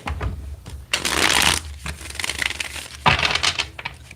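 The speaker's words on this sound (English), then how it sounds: "Let's get one more good shuffle." A deck of tarot cards being shuffled up close in two loud riffling bursts, with quieter handling and card slaps between them and no talking.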